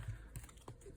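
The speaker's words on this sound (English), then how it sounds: "Let's see how this deck shuffles." A tarot card deck is shuffled by hand, a few faint, quick papery riffles and taps in close succession in a quiet room.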